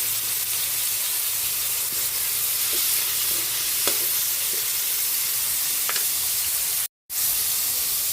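Chicken liver sautéing in a pan, a steady loud sizzle and hiss throughout, with occasional soft stirring clicks and a momentary dropout near the end.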